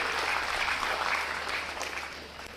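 An audience at a speech bursts into applause, a dense steady clapping that fills the whole stretch and fades a little toward the end, with no voice over it.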